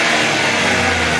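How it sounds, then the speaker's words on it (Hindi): A 2022 Suzuki Alto's engine is held at a loud, full-throttle rev, a steady close-up roar with a strained mechanical whine, no voices present. "फुल रेस दे के छोड़ दो"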